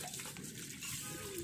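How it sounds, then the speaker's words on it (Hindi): Water runs and splashes steadily as it is poured over a window air conditioner's air filter to rinse it clean, a continuous close wash without pauses. "जैसे ही पानी इस पर डाला जा रहा है तो ये क्लीन हो रहा है"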